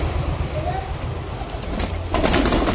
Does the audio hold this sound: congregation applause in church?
no